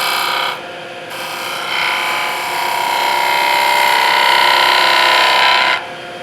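A lathe tool cuts a bead into spinning wood with a steady, sustained rasping scrape that swells and holds for several seconds, close and loud, with no talking.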